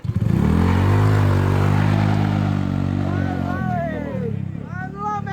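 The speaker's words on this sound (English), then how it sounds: "Yeah, open throttle again." A motorcycle engine revs hard as the throttle is opened, a loud, close, sustained roar that eases after about three seconds, followed by a voice speaking.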